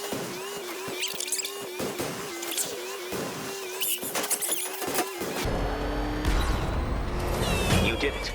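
A car engine revs and roars in the video game Batman: Arkham Knight, with whooshes and impacts over a dense, loud game soundtrack; the driving rumble intensifies in the final seconds.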